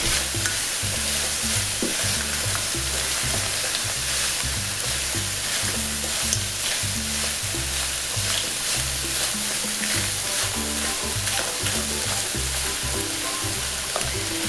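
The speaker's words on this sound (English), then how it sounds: "Then we'll add the green part of the scallion and mix it well with lobster meat." Scallion greens and lobster meat are stir-fried in a wok, with steady loud sizzling under rhythmic scraping and tossing strokes that carry on throughout, close by and with no voices.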